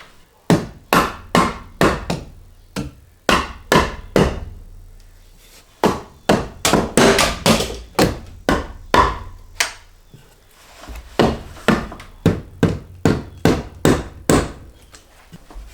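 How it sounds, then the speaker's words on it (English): Wooden blocks hammered against the siding on a leaking mobile office roof: rapid bursts of sharp, loud hammer strikes in quick clusters with brief pauses between, no talking. "Now these blocks of wood will go right on the face like this. I gotta hammer it in there."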